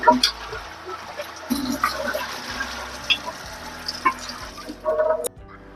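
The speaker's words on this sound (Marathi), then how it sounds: "सो मी हा कुकर धुवून घेते" Tap water runs over a pressure cooker being washed, splashing and gurgling close by in uneven bursts, then cutting off abruptly near the end.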